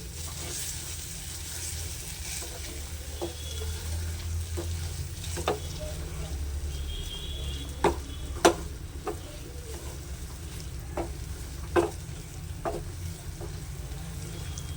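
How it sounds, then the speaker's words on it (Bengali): Paneer kachori filling stirred in a pan with salt and ground pepper, a steady soft frying hiss with occasional spoon scrapes and taps against the metal, close and moderately quiet throughout. "এইভাবে 3 থেকে 5 মিনিট নাড়াচাড়া করে এটা নামিয়ে নিতে হবে।"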